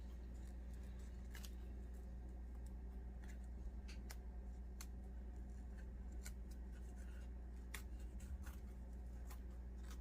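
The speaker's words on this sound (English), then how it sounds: "I'm just going to cut this off so it's even with my tube" Scissors make a few quick, faint snips while trimming the end of a material piece level with a tube for a handmade Valentine gnome craft, set against a steady low background hum with no talking.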